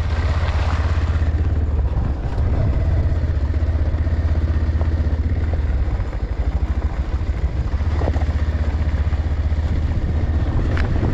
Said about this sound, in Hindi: माइकल को बाइक चला के अच्छा लग रहा है। ऑफ रोडिंग एरिया है ना, पालसर में ऑफ रोडिंग कर रहे हैं अभी।